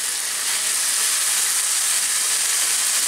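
Chicken stir-frying in a pan with small pieces of cauliflower and green beans, a steady dense sizzle that holds loud and even throughout with no voices.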